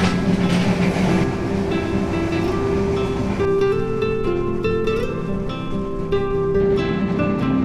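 The Maitree Express passenger train from Dhaka to Kolkata runs on its rails with a steady loud rumble and rhythmic clatter, heard from inside the train.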